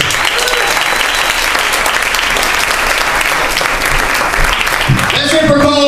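A comedy club audience at the Laugh Factory in Hollywood applauds and cheers in a dense, continuous roar throughout, with a voice rising above the crowd near the end.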